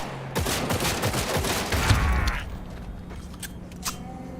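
Rapid bursts of gunfire in the video game Cyberpunk 2077, a dense fusillade of close, sharp shots for about two seconds, then a few scattered single shots and mechanical clicks.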